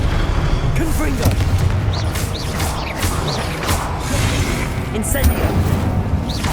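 Confringo blast spells in Hogwarts Legacy combat: repeated booming impacts and crackling bursts over dense, continuous battle noise, with voices heard in the mix.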